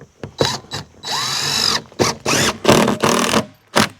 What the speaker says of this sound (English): I just got to go back and get the middle of the boards.